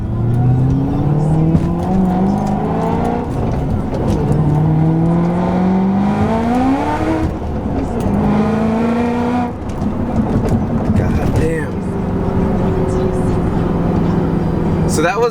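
A 2007 Ford Shelby GT500 engine revving loudly through repeated rising pulls, each climb in pitch followed by a drop at the shift, heard from inside the car with a voice briefly over it.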